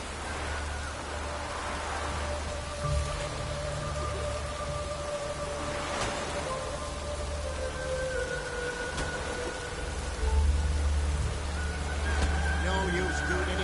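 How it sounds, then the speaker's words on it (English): Steady rain falls without a break, giving an even wash of noise. A low rumble and a few faint tonal sounds sit under it. "No use doing any work in this rain."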